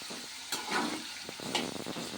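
Chopped vegetables for Nellore chutney sizzle in a pan, with soft crackling broken by a few brief stirring scrapes and clatters. It is close up and fairly quiet.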